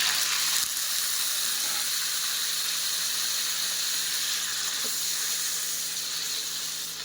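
Tomato frying in hot oil in a pan with dry red chilli, bay leaf, five-spice seeds and nigella, while a jackfruit curry is being made. It gives a steady, close sizzling hiss that stays even throughout.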